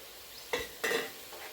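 Fish pieces laid into a pan of fish biryani masala give two brief close stirring and sizzling bursts against quiet kitchen background.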